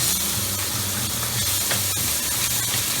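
Sausage for a Caribbean seafood gumbo sizzles in a pan as a loud, dense, continuous hiss and crackle with a low rumbling underneath, with no talking.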